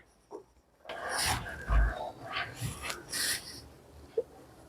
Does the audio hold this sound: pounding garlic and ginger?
yes